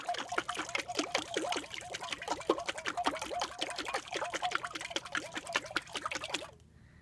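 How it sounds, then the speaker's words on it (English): Jars of liquid with emulsifiers shaken hard together, a rapid rhythmic sloshing and splashing for about six seconds, close and fairly loud, then it stops. "So we're going to shake it together."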